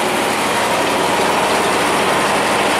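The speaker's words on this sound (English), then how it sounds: "Let's park the tractor" A farm tractor engine idles loud and close beside an auger wagon used for mixing TMR cattle feed, a steady broadband rumble and hum holding unchanged throughout with no talk over it.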